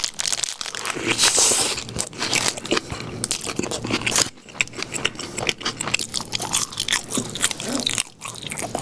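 Tteok rice cake being bitten and chewed up close during a mukbang meal with Mom's Touch chicken, with crisp, crunchy bites and wet chewing that carry on steadily, broken by short pauses.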